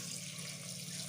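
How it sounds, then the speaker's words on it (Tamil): Water poured into a pot for a coconut-free pea curry, a short steady splashing gush heard close and alone. "தண்ணி தேவையான அளவு ஊற்றிக்கோங்க."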